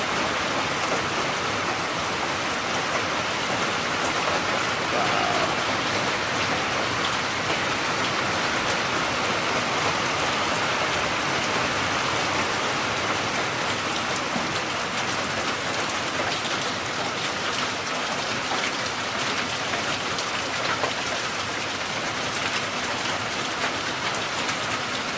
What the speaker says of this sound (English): Nothing like listening to that old rain beating up on the roof.